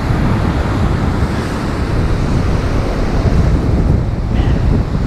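Ocean waves pounding rocks on the shore at Acadia National Park, a loud continuous roar of surf mixed with howling wind buffeting the microphone.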